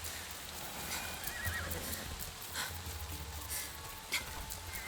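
A horse neighs and whinnies in the video game Assassin's Creed Shadows, with soft hoof clip-clops and a light hiss of rain-like ambience under it, fairly quiet overall.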